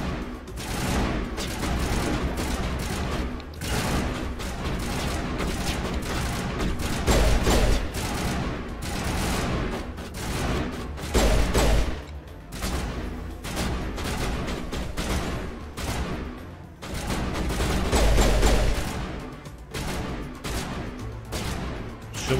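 Dense, loud gunfire from the video game Mass Effect Legendary Edition: near-continuous rapid bursts and heavy blasts keep coming across the whole stretch, with little let-up.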